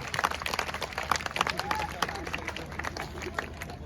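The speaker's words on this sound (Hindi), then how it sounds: "एक बार दोनों हाथ उठा के जोरदार ताली बजाइए" Loud, sustained applause and clapping from a crowd at an outdoor religious recitation gathering in a pandal, dense and continuous with some crowd murmur mixed in.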